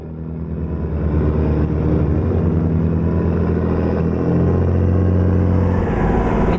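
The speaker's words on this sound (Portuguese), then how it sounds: "Caramba, o ronco dele é muito grosso." Heavy truck engine in Euro Truck Simulator 2 climbing a steep hill, a deep, loud, steady rumble that builds slightly over the first second and then holds evenly throughout, with no voices.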